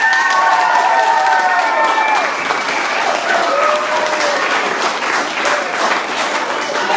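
Audience applause and cheering for a bluegrass band at a live venue, a dense, steady wash of clapping with whoops and shouts rising over it throughout.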